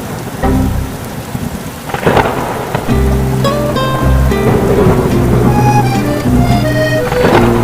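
Rain and thunder in the Sakura School Simulator game: loud, steady rainfall with heavy rumbling thunderclaps, and a musical melody playing over the storm.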